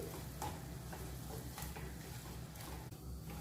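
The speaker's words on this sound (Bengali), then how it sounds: "বেসন মশলা চিকেন আমি ভালো করে মিশিয়ে নিচ্ছি" Chicken pieces being mixed with gram flour and spices in a hot pan for tikka, giving a faint continuous sizzle with occasional soft stirring scrapes and no voices.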